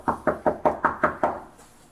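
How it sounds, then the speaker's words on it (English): Police knock hard on an apartment door, seven heavy, evenly paced raps in quick succession, close and loud, then fading into quiet room tone with no one speaking. "Well, you know we're knocking on the door."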